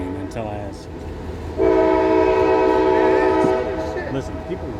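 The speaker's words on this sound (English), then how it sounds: "There it is, the street running train" A street-running train on old tracks in a street sounds a long, loud, steady horn blast over rumbling passage, with brief rail noise before and after and faint talk nearby.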